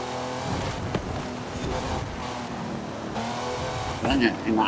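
A supercharged racing car in Forza Horizon 5 revs and accelerates with a rising engine whine and a tire chirp, the engine heard beneath a person talking.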